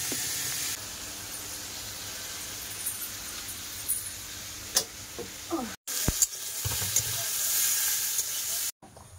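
Vegetable curry seasoned with salt and turmeric bubbles in a pot, a steady close simmering hiss with a few soft clinks and brief breaks, no talking.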